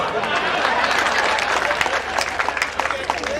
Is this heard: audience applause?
yes